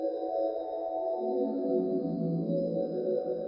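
A sustained, airy flute line drenched in heavy reverb, notes smearing into a soft pad-like wash with a steady high tone above.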